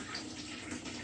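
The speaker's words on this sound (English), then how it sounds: "Let me pour." Filtered water pouring into a vessel while making kombucha, a soft continuous splashing trickle, faint and brief.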